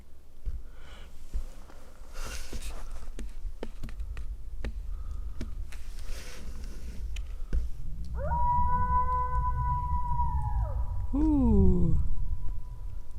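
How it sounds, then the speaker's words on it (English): Wolves howl in the distance at a winter campsite in snowy, stormy conditions, with several long rising and falling howls layered together near the end over steady wind and camp noise. "there are wolves howling off in the distance"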